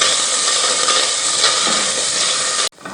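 Shredded chicken fries in a pan with a loud, continuous broadband sizzle that stays constant before cutting off abruptly just before the end. No voices.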